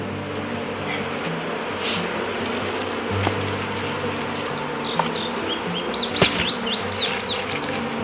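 Honeybees shaken off a frame while a five-frame nuc is installed into a full beehive, a dense steady buzzing swarm filling the air, with birds chirping faintly in the background and no talking.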